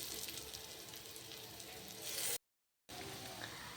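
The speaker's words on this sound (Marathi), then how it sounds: "आता आपण हे फ्राय करून घेऊयात। यावर आपण आता तेल घालून घेऊयात।" Aluvadi, rolled colocasia leaves, sizzles steadily as they fry in oil in a pan, a close, even hiss that cuts out briefly before resuming.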